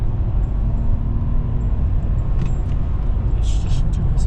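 A car's engine drones and rumbles steadily from inside the cabin during performance driving practice, heard close with a low constant roar, faint ticking and light jangling near the end, and no clear gear changes audible.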